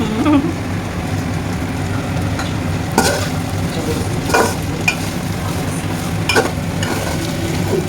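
Fried rice being stir-fried in a pan, with a steady close sizzle under repeated scraping and tossing strokes, heard alone without talk.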